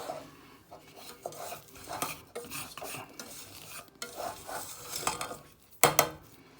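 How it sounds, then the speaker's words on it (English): A roux of butter and flour stirred one-handed in a pan for lasagne sauce, with repeated scraping and clinking of a utensil against the pan in an uneven rhythm, and a sharper knock near the end. "And just what you're doing is you're creating a roux."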